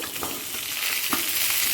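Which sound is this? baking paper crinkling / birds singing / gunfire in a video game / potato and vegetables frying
potato and vegetables frying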